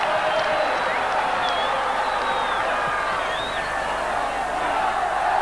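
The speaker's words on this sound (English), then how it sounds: "Well, the crowd enjoyed that. You can hear them singing." A rugby league crowd at the Boulevard, Hull, facing Australia, with a dense sustained roar of voices and faint wavering singing threading through the noise of the stands.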